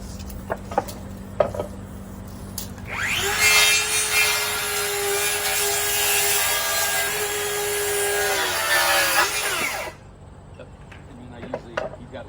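A hand saw cuts wood during a tiny home build in Minnesota, a close, loud stretch of steady rasping strokes lasting several seconds, with scattered knocks and brief talk before and after.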